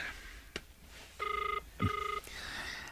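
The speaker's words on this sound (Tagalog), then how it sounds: "Agre-ringan ti cellphone na." A cellphone rings indoors in two clear electronic bursts separated by a pause, each a rapid trill of stacked tones, after a single sharp click; moderately near, with no talking during the ring.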